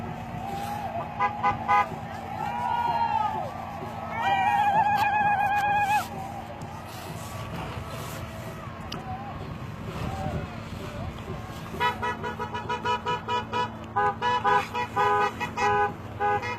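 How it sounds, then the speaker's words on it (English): Car horns honk as vehicles push back through a protest crowd at the Standing Rock encampment, with short bursts of toots in two clusters over steady background rumble and murmuring voices. "The noise you hear is people going back in cars for medical"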